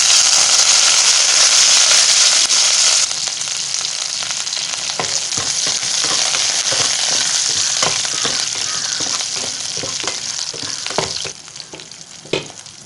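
Curry leaves, urad dal, green chilli and ginger fry in hot oil for broken wheat upma, with a loud crackling sizzle that eases, then clinks and scrapes of stirring.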